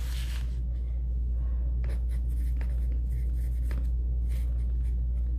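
Pencil or pen writing on paper in a second-grade classroom lesson, a steady scratching with short strokes and pauses, close and alone without talk.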